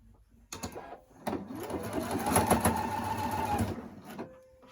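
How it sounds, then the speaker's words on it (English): A sewing machine stitches straight down the crease of a rectangular fabric mask, a fast, close whirring run of needle strokes lasting a few seconds, with brief pauses at the start and end. "I'm going to sew straight down that crease line"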